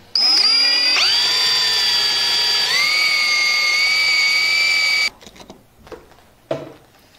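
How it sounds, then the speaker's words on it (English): A power drill whines loudly at high speed for about five seconds, pitch shifting as it bites into a wooden skateboard deck, then stops, followed by a few soft clunks and handling noises. "we've gone ahead and drilled out the hole"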